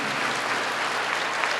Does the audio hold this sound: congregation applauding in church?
yes